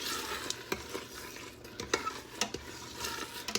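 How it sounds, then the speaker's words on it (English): A spoon stirs and scrapes beef bolognese made from jarred sauce inside an Instant Pot, giving a steady close scraping with light sizzling and irregular clicks of the spoon against the pot, heard alone. "You don't want this to burn, so I'm going to keep stirring it."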